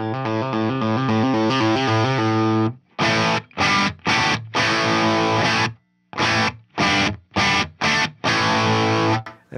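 An electric guitar through an overdriven Plexi tube amp holds a distorted chord, then chops out a series of loud, crunchy stabs separated by short silences.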